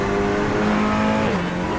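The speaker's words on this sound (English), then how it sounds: "let's take you on board for a lap of Mugello circuit with the Sean Clark Racing Team" Onboard a TCR touring race car lapping Mugello circuit, the engine droning loud and close with a sustained tone that holds, then steps down as the car shifts gears, no voices.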